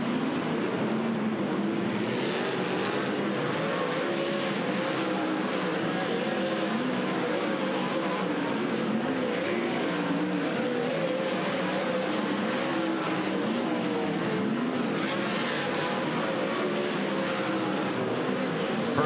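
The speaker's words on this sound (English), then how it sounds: "As we go to the green flag, final dirt draft hot lap session of the evening." Dirt track race cars roar through their final hot laps at Douglas County Dirtrack, a dense steady engine drone that swells and fades as cars pass, with no clear voices over it.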